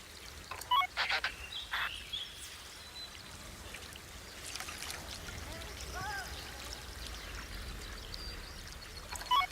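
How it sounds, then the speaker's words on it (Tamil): Water pours and trickles in the Planet Zoo video game. It comes in short splashy bursts and a steadier stream, fairly faint, with soft talk underneath. "தண்ணி ஊற்றி வச்சுருக்காங்க"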